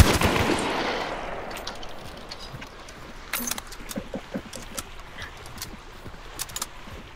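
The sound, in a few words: gunfire in video game Hunt: Showdown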